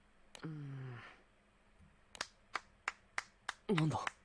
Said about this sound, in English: After hearing you play so beautifully, I couldn't help but applaud.